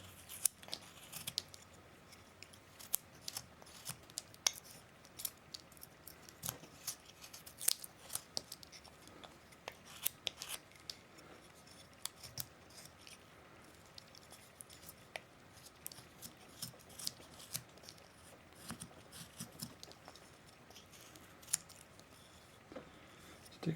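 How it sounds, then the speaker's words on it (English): A knife blade shaves and slices into a wooden Viking bust, giving a long series of short, crisp scraping cuts at an irregular pace, close and quiet with light background hiss. "You want to watch the blade too as you're cutting."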